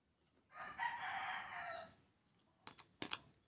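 A rooster crows once, loud and close, a long drawn-out call lasting about a second and a half, followed by a few short sharp clucks or knocks.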